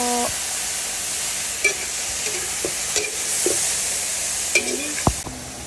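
Adobong labong, bamboo shoots cooked with soy sauce and spices, being stirred in a pan: a steady sizzle with scattered scraping and clinking spoon strokes, close and continuous, with no talking.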